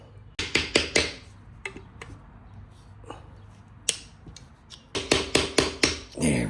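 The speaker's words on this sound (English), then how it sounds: "we're back to just punching holes in the seal then" A hammer drives a screwdriver to punch holes in a transmission seal on a Chevelle: quick clusters of sharp metallic strikes, a few isolated taps in between, then another rapid burst of close, ringing blows.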